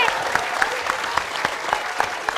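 A studio audience at a Betawi comedy show applauds Pak Bolot, with brisk clapping from many hands and a few sharp louder claps standing out near the front, with no talk over it.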